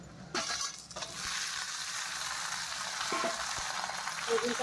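Eggplant pieces frying in a pan, a steady close, loud sizzle with occasional clinks and stirring scrapes throughout.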